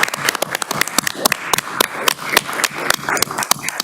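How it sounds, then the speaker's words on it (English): A small group claps in a round of applause at a town council meeting, close, sharp and uneven claps for a few seconds without talk. "I think you deserve a round of applause"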